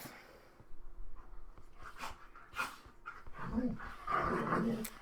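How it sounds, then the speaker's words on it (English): Dogs wrestling and panting nearby indoors, with scuffling, short yips and heavy breaths rising in bursts over a few seconds. "my dogs are wrestling in the background."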